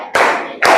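Hand clapping in a classroom coaching session for the tepuk konsentrasi clap game, with two sharp bursts of claps, loud and close, separated by a brief pause.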